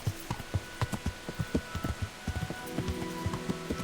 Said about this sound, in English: those clouds are causing a torrential downpour in all directions from us at a steady rate for, like, several hours in a day?